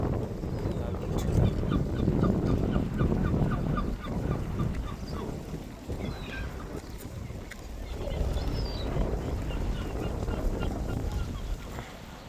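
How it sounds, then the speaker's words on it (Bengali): A large flock of waterbirds, goose-like, calls and honks without a break over a low rumbling background, some calls close and others distant, while a person talks at times. "হাজার হাজার পাখি আমরা দেখতে পাচ্ছি।"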